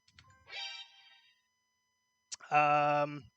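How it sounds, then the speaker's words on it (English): A phone gives two bursts of bright electronic notification tones, a short chime followed by a longer, louder harmonic alert, separated by a pause of silence. "as you can hear, my phone's pinging like crazy"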